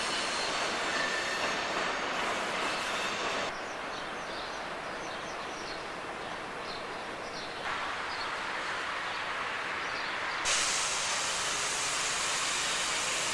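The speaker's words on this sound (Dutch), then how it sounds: "Vanuit Den Bosch komt deze 1300 binnen met een aantal rijtuigen die normaal in de autoslaaptreinen meerijden" A Dutch 1300-class electric locomotive rolls in hauling car-sleeper coaches, a steady broadband rumble of wheels and rail noise lasting throughout with shifting intensity, fairly close and continuous, no voices.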